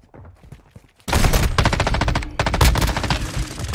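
Automatic gunfire in Modern Warfare 2: a short quiet stretch, then sustained rapid bursts of loud, dense shots that keep going for several seconds with a brief dip midway.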